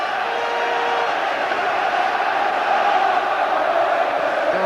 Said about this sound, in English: Darlington's fans giving everything they've got to make sure the Quakers have got plenty of backing here